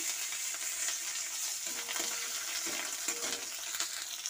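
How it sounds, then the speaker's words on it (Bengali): Chopped tomato frying in a little oil for chanda fish curry, a soft steady sizzle with faint stirring scrapes, fairly quiet and without talk. "তেল দিয়ে ভালো করে ভেজে নিচ্ছি। এর মধ্যে অল্প একটু টমেটো কুচি দিয়ে দিলাম।"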